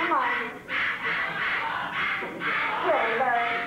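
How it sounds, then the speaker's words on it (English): A bird calls excitedly in a series of loud, harsh, caw-like squawks that come in rapid bursts, close by and mixed with a person talking. "Silly bird."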